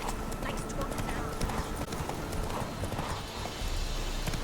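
Hooves of Roach, a horse in The Witcher 3, clip-clop in a steady trotting rhythm, close and continuous beneath game music and ambience, with a voice speaking over it.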